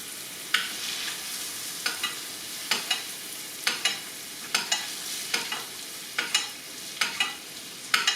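Butter sizzles in a hot pan while scallops cook, a continuous frying hiss broken by regular stirring or scraping strokes about once a second, close and fairly clear, with no talk.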